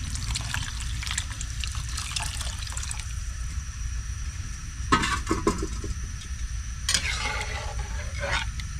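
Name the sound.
liquid boiling in a cooking pot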